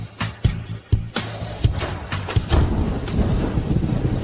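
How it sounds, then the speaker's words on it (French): Rain falling with thunder, a steady wash of rain noise broken by several sharp low rumbling cracks early on, growing denser toward the end. "Il pleut, tante Rourou, entrons."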